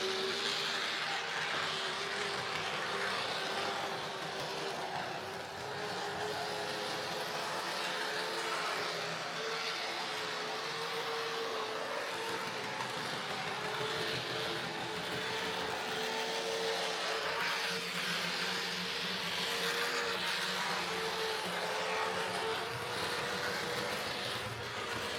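An old model train locomotive with an old motor running continuously, a steady whirring electric drone with a faint rhythmic rattle, close and even throughout with no talking.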